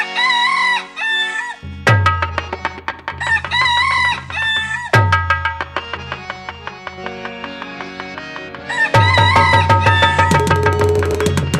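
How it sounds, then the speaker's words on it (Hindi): A rooster crows repeatedly in a stage Ramlila performance, with loud, drawn-out cock-a-doodle-doo calls over a backing of harmonium and rhythmic drum accompaniment. "क्योंकि मुर्गी ने बांग लगा दी है"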